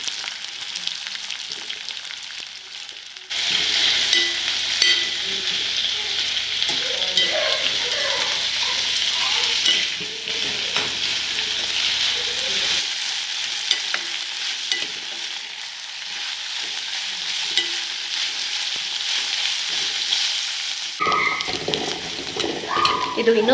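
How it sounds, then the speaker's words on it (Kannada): Long sliced onions drop into hot oil for a chicken biryani and fry with a steady, bright sizzle, broken by stirring scrapes and a brief quieter stretch near the end. "ಈಗ ಕಾದಿರೋ ಎಣ್ಣೆಗೆ ಈರುಳ್ಳಿನ ಹಾಕೊಳ್ಳೋಣ"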